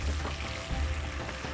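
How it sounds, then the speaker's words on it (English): Masala and spices fry in hot oil for a chicken changezi, giving a steady, close crackling sizzle with low stirring thumps and no voices. "We're frying the masala or the spices we've added into this."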